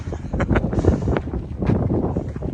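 Strong gusts buffet the microphone on an exposed hiking trail under dark clouds and sideways mist, a steady broadband roar that swells and dips, with no talk.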